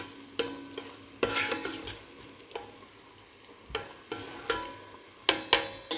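Tomato paste fries in oil for a green lentil stew, a soft sizzle under intermittent scraping spoon strokes that come in short clustered bursts, close up.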